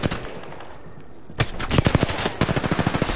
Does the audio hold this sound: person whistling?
no